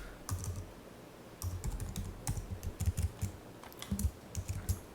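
Someone types on a computer keyboard, with close, crisp key clicks arriving in quick irregular bursts separated by short pauses.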